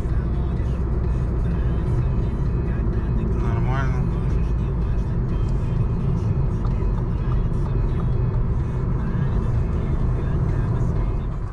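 Cars crawl in a slow-moving traffic jam of returning lake-goers, a steady, close engine drone and road rumble filling the whole stretch, heard from inside a vehicle with people talking over it.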